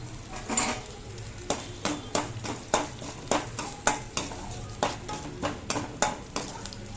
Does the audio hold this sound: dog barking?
no